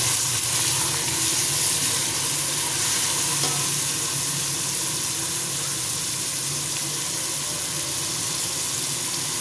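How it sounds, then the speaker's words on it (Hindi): Vegetables frying in a hot pan ahead of adding cabbage, a steady close sizzle with hiss and occasional stirring scrapes that holds evenly loud throughout, with no voices. "इनको सिर्फ 20 सेकंड तक ही फ्राई करेंगे।"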